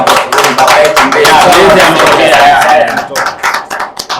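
A gathering of Arsenal supporters at the University of Iringa breaks into clapping after their league title win, a close burst of hand claps that swells, then thins into scattered claps amid crowd noise.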